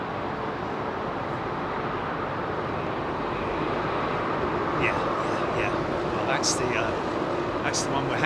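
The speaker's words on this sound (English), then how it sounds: "is that 757 started his descent already?" A Boeing 757 airliner starting its descent near an airport, a steady broad engine roar holding throughout, with people talking over it.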